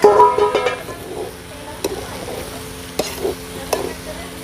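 A ladle stirs a potato and papaya flower curry in a pan, with scraping and clinks over a soft, continuous sizzle, loudest at the start and then in sparse strokes.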